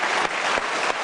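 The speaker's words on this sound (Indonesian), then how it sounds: "mari kita berikan tepuk tangan untuk Vincent dan Desta" An audience at a Kick Andy anniversary event applauds two guests, a brief burst of loud, dense clapping with a few sharper claps poking through.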